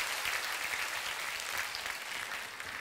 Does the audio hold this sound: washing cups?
no